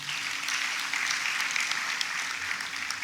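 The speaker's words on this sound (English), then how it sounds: "Let's applaud him once again." A crowd at a university convocation applauds in a continuous, even wash of clapping, moderately distant and sustained throughout.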